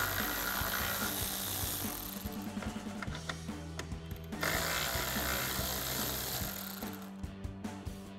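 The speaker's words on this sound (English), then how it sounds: "then we'll switch to the 10mm socket for our 2 bolts." A 10mm socket on a ratchet or power driver removes two bolts from a 2021-2023 Ford F-150 grille, with two bursts of loud mechanical whirring and ratcheting, a short pause between them.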